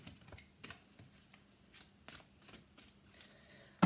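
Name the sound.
shuffling tarot cards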